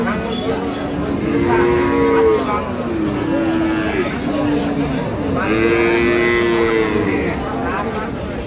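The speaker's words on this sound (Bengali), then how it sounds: "গাভী বাছুর আমরা দেখছিলাম এখানে" Several cows and calves moo over and over, loud and close, their long calls overlapping against a busy background murmur at a cattle market.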